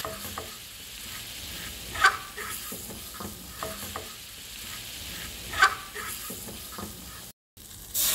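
Butter and flour stirred together in a frying pan as a roux thickener for a creamy chicken mushroom pasta sauce, giving a steady soft sizzle with scraping utensil strokes and a couple of sharper clinks, close and moderately quiet.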